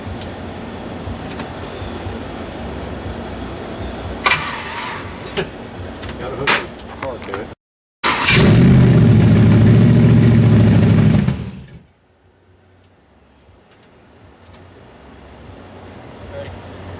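A freshly built 388 engine in a 1974 Chevy Nova, mufflers back on, bursts into a loud, steady running roar during its first break-in start, then cuts off abruptly; people talk before and after it.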